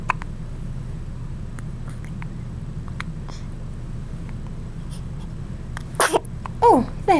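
A baby gives a few quick, soft sneezes near the end, faint and close, after quiet background noise with small snuffling sounds.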